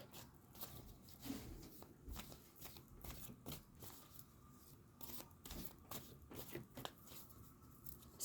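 Playing cards are shuffled in quick, crisp riffles and flicks, close up and fairly quiet, with faint background noise and no talking.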